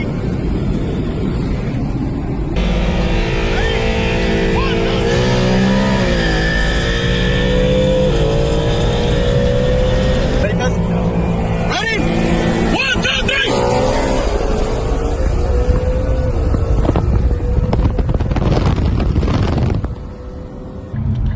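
An Infiniti Q50/Q60 with the VR30 twin-turbo engine and Ecutek launch control accelerates hard from a launch, a loud rising engine drone that climbs and shifts over about twenty seconds, with a person talking over it.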